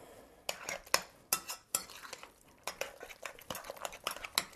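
Banana bread batter with eggs being mixed in a bowl, a quick rhythmic series of utensil clinks and scrapes against the bowl in short bursts, close and alone with no voices.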